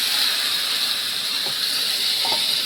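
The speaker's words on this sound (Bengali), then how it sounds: "মাছটা ঢেলে দিচ্ছি।" Fish sizzles in a hot pan, a loud continuous steamy hiss with faint clinks of a utensil underneath.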